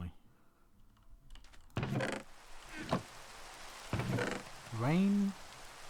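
Rain patters steadily in the video game Minecraft, while computer keyboard clicks and bursts of a voice sit on top of it.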